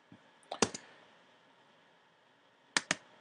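Sharp clicks from a computer keyboard, a quick cluster of three or four near the start and a pair near the end, crisp and close against a quiet room hiss.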